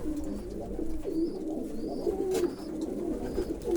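Viennese pigeons coo softly in a loft, with several low, rolling calls repeating through a steady background hum and occasional faint higher chirps.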